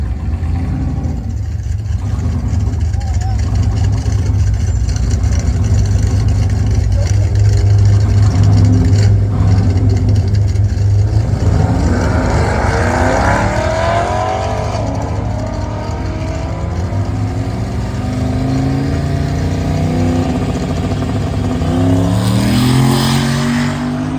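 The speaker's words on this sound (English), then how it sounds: "Looks like the car did not want to do a burnout." A drag racing car at Cordova Dragway idles with a deep, loud engine rumble, then revs and accelerates hard, the pitch sweeping up and down as the car pulls away and passes.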